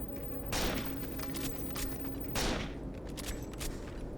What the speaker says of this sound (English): And the sniper got us.